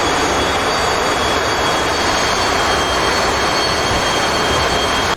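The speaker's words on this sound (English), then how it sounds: "B-21's taxiing." A B-21 bomber taxis in a war video game, its jet engines giving a loud, constant roar with a high whine running throughout and no talk.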